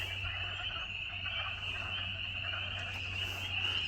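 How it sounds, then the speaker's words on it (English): A dense chorus of frogs croaking continuously near Harpers Ferry, a steady high trilling drone with a low hum underneath, no talking. "you can hear all those frogs"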